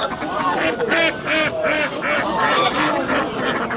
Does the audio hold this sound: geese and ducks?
yes